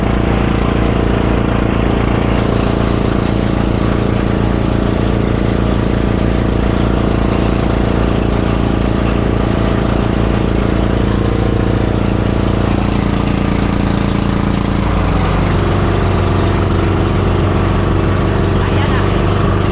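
A fishing boat's engine runs steadily and loud at sea throughout, a constant low drone with a slight shift in tone near the end, with voices faintly present.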